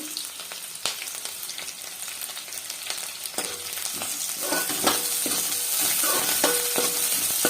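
Onions and green chilies fry in a pan for veg biryani, giving a continuous soft sizzle with scattered crackles and stirring clatters that swell slightly toward the end.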